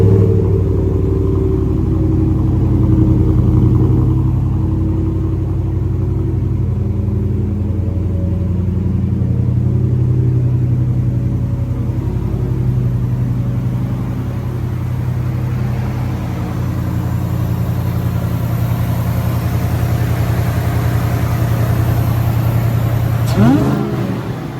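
A powerful supercharged, modified pickup truck engine with modified exhaust rumbles deeply and steadily at close range, idling and revving with a low growl that barely changes throughout.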